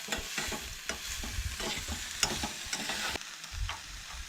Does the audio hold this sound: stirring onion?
yes